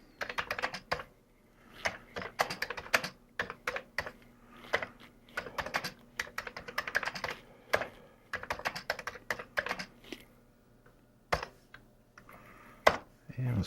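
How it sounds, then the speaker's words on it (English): Keys clatter on a Commodore 64 keyboard as a program is typed in, irregular bursts of close, crisp keystrokes separated by brief pauses, with a faint steady hum underneath. "We'll type in our program."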